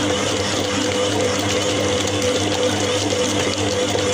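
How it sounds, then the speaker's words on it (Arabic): A dough kneading machine runs at high speed while mixing pizza dough, giving a steady, loud, whirring motor drone with a busy mechanical rattle throughout and no pauses. "نعلي السرعه بقى بتاع العجان."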